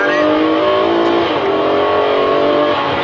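A Ferrari 599 GTO engine revs loudly and continuously close by, its harmonic-rich howl rising and settling across a few seconds with no other sounds.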